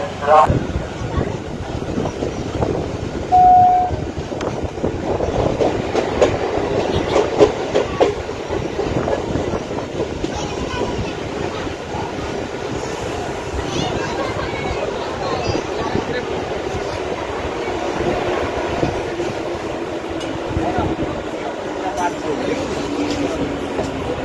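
A local train on the Bangaon–Ranaghat line in West Bengal rolls along the tracks with a steady rumbling clatter and rhythmic clicking of wheels, a voice speaking over the noise.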